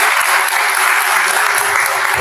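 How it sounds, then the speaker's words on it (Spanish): Loud, dense applause from an audience at a world poetry festival tribute, steady and close with no pauses across the brief stretch. "Un aplauso para nuestra querida amiga."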